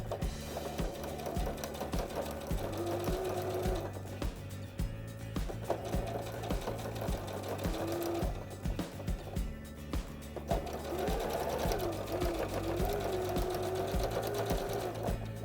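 A sewing machine runs steadily close by, stitching ric-rac trim onto fabric with a fast rhythmic clatter, pausing briefly a few times before resuming, with faint talk in the background.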